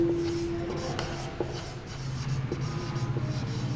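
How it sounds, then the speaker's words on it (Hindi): Someone writes an example out by hand, pen scratching in short strokes and taps near the microphone over a faint steady hum, with no one speaking. "नेक्स्ट एग्जाम्पल लिखते हैं"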